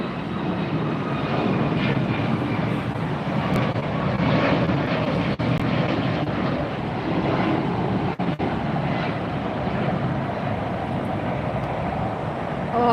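A United airliner passes at LAX airport, its engine roar steady and loud throughout, with a broad rumbling wash that holds level rather than fading and no voices over it.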